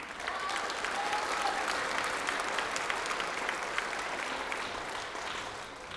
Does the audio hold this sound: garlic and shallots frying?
no